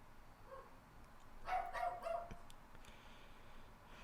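A dog barking from a neighboring backyard beyond a metal fence, a short cluster of two or three muffled, distant barks in the middle of an otherwise quiet stretch.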